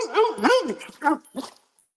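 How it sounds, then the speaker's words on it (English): A pet dog gives short whimpering yelps and a bark or two in a home, close and fairly loud in quick bursts before fading out. "look at my dog right here"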